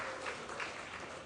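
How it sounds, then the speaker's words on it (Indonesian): An audience claps at a local talk event on millennials and the 2024 election, a brief, faint burst of scattered applause heard from a distance. "Tepuk tangan dong."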